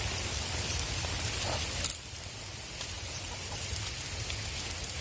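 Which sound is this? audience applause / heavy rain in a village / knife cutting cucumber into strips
heavy rain in a village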